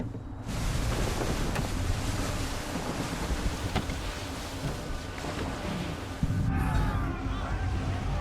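A sailing ship at full sail on the ocean in Assassin's Creed III carries a steady roar of wind and rushing waves, broad and constant, with a brief splash-like swell near the end and faint voices underneath.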